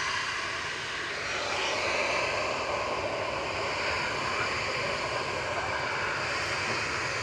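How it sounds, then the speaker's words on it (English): A Ryanair Boeing 737-800 takes off with a loud, sustained jet roar that builds slightly after the first second and then stays strong and steady, with no voices over it. "Ryanair 3805 to Portaventura going now. This is EFY, a 737-800."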